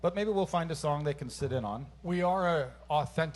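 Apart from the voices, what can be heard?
None of the usual background noises is heard.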